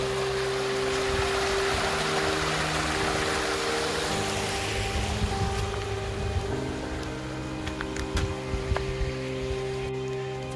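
A small trailside waterfall in the Ruth and Paul Henning Conservation Area near Branson makes a steady rushing splash throughout, with a low constant hum underneath.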